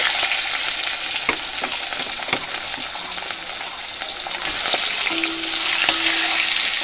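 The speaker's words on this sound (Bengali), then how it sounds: "এবার মাছগুলো আমি একে একে এভাবে ভেজে নেব" Pieces of fish frying in hot, smoking oil in a wok, giving a steady close crackling sizzle with scattered sharp pops and spits throughout.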